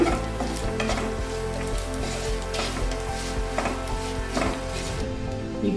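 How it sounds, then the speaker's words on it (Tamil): Masala sautéing in a pan for a mutton bone curry: a loud, continuous close sizzle with repeated rhythmic scraping and stirring strokes, no talking. "இப்போ நம்ம நல்லா வதக்கியாச்சு"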